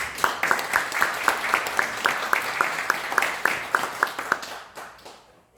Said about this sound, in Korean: 우리 다시 한번 감사의 박수